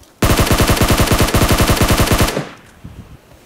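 A rapid burst of automatic gunfire from PUBG Mobile, about twenty evenly spaced shots over two seconds, loud and close, cutting off abruptly into quieter ambient game noise.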